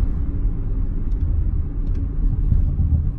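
An Audi RS5 engine and exhaust heard muffled, a low continuous rumble that stays steady and fairly loud throughout, with no speech.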